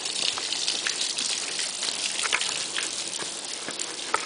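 Water from an icy waterfall rushes and splashes in a steady, broadband hiss, with scattered sharper drips and spatters throughout, fairly close and without any talking.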